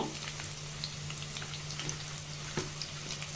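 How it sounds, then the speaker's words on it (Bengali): Onion paste fries in a pan for an Eid chicken roast, giving a steady, close, even sizzle with scattered small pops and crackles throughout and no talking. "কাঁচা পেঁয়াজটা ভালো করে ভেজে নেব"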